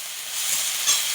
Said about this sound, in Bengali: হলুদ লবণ দিয়ে খুব সুন্দর করে নাড়চাড় করে